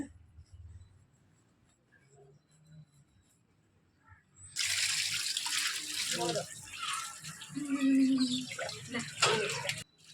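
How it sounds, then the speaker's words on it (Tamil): Water mixed with flower petals poured over a girl during a Tamil coming-of-age puberty ceremony, splashing loudly in bursts after a quiet stretch, with voices nearby. "தண்ணியில் பூவெல்லாம் பிச்சு போட்டு ஒவ்வொரு ஆளாக மூணு மூணு தடவை ஊற்றணும் அப்புறம் எல்லோரும் சேர்ந்து ஊற்றுனாங்க"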